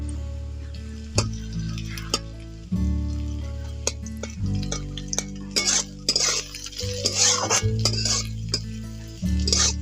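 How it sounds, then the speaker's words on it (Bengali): Cashews, chopped capsicum and carrot are stirred in a frying pan for fried rice, with repeated scraping and clinks of a spoon against the metal pan over a soft sizzle, close up and without talking. "এখন ক্যাপসিকাম আর গাজর কুচি ভেজে নিয়েছি এবার কাজুটা দিয়ে দিচ্ছি"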